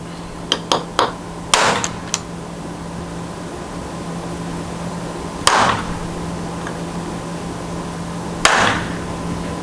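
Sharp metallic hammer strikes on a heavy metal punch ring out: a quick cluster of taps, then a few heavier, isolated blows spaced seconds apart over a steady hum.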